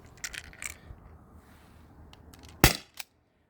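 Modded T4E HDP50 pistol fired through a chronograph, a single sharp close crack following a few faint clicks and light handling taps, then a brief softer knock after.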